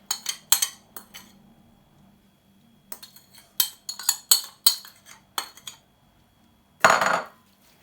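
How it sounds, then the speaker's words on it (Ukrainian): A metal spoon clinks and scrapes against a bowl while stirring Korean-style carrot salad with dressing, in quick bursts, a pause, then a steady run of clinks, ending with a louder scraping swirl. "І я просто ложкою добре-добре це все перемішую."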